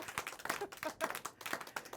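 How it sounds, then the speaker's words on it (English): A small audience claps for a band leader and radio host at a live music event, giving fairly quiet, irregular bursts of hand claps with a few brief pauses and no clear cheering. "And the crowd goes wild."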